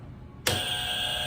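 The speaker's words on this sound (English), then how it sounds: "Miss Jackie, tell us what does your buzzer sound like?" Trivia game buzzer, one sudden loud harsh electronic buzz that starts abruptly and holds steady to the end, with no voices.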